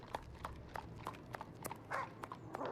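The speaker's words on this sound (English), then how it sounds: "Am I gonna get run over by a horse? I hear it getting closer, but I don't see it." Horse hooves clip-clopping on a cobbled street in a Sherlock Holmes video game, a steady run of sharp, evenly spaced hoofbeats drawing closer over faint street ambience.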